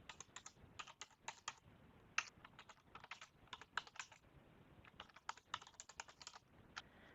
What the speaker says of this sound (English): I'm going to type in here my check number